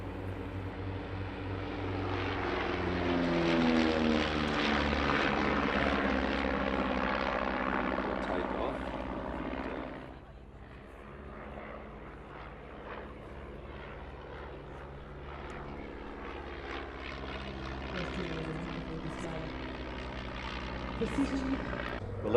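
A propeller plane drones overhead at an air festival, its engine loud and rising as it approaches, then fading and returning as it passes, with talk in the background.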